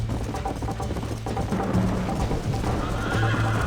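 Horse neighing and whinnying in Red Dead Redemption on PS5, steady over continuous hoofbeat-like clip-clop and game ambience, loud and close throughout.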